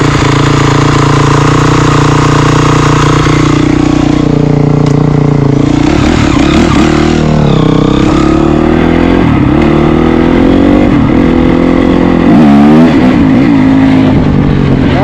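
A Honda CRF250 motorcycle engine idles loudly up close, then revs up and down in several rising and falling bursts.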